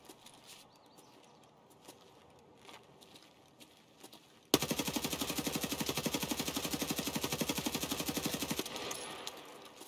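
Sustained rapid machine gun fire in Escape from Tarkov begins abruptly partway through and hammers loud and continuous to the end, following a quieter stretch of faint ambient game sound with no voices.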